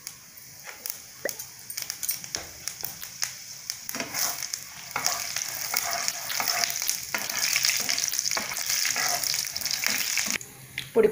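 Mustard seeds, chana dal and urad dal sizzling in hot oil while vazhakkai varuval is prepared, with crackling pops, sputtering and stirring scrapes that grow busier and louder, close up, with no talk.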